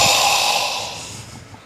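A person vocally imitates an odd engine noise from under the hood of a 2024 Volkswagen Atlas, a short breathy, snort-like hiss that fades out over about a second and a half.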